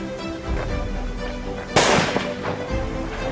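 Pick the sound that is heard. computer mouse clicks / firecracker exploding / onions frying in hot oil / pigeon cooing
firecracker exploding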